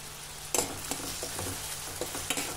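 A spoon stirring finely chopped tomato with salt in a pan of okra masala, soft sizzling beneath a few distinct scraping clinks against the pan, close and fairly quiet, with no voices.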